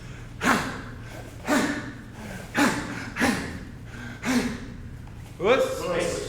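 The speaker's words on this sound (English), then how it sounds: "you're getting an inhale on every move" Sharp nasal inhales during a Shotokan karate kata: six forceful, evenly spaced sniffing breaths about a second apart, close and loud, the last one longer.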